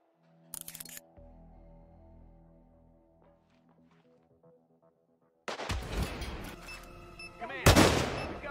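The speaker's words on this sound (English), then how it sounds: "Command, we've got reports of gunshots." Sniper rifle fire in the stealth video game Hitman 2: a sharp crack at the start, quiet ambient game music after it, then a burst of loud shots and impacts near the end, with no talk.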